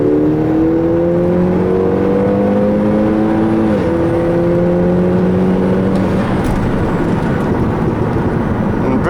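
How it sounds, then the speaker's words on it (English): An Audi TTS 8J roadster drives past outside, its engine note rising as it accelerates and then fading into a rushing roar, fairly loud and close. "you're gonna hear the sound of this car, how he sounds outside"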